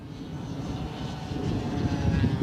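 Propeller engine of a radio-controlled Fw 190 model plane, after repairs from a ground impact and flying in strong wind, a steady loud buzzing drone that swells slightly toward the end, with wind noise and no talk.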